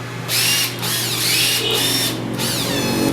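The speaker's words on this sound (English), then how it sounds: "Because you can control the speed of that impact driver." An impact driver whirs in short bursts, its motor pitch rising and falling as the trigger is squeezed and eased, close and fairly loud.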